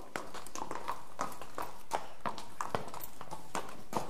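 Several horses walk away with a steady run of clip-clop hoof strikes at an even rhythm. The hooves are moderately loud and close, with nobody talking.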